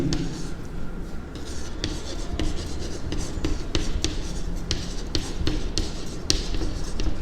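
Pen writing a maths solution on paper: continuous close scratching and tapping strokes over a steady background hum, with no speech.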